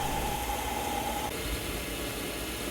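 A metal lathe turns down a half-inch section of bar stock, giving a steady mechanical hum with a thin whine that fades partway through, continuous and close with no talking.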